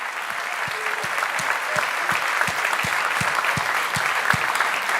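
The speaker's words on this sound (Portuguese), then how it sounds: "palmas para o Dia da Mulher, palmas para o Dia da Família" A church congregation claps steadily through a Sunday morning women's day service, dense sustained applause with a faint rhythmic thump beneath, moderately loud and filling the room.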